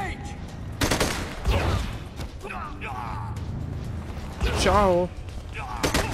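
Bursts of gunfire from a firefight in the PS4 game Gemini: Heroes Reborn, sharp shots and mechanical clatter over a steady game backdrop, with a player's voice talking in between.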